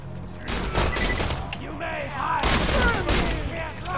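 Dense bursts of rapid gunfire from the video game Borderlands 2, loud shots and echoing booms in quick succession over about four seconds.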